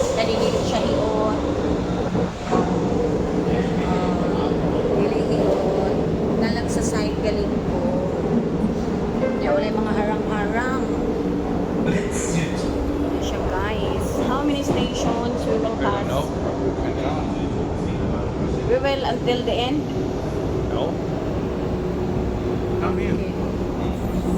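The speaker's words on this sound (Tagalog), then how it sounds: "look at the train" A train rolls past on a city tour with a continuous, loud, rumbling roar and rattling that holds steady throughout, as voices talk over it.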